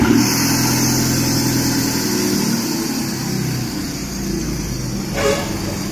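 A remapped car engine fitted with a full straight pipe idles while warming up, a steady loud low rumble that holds throughout, with a brief rise near the end.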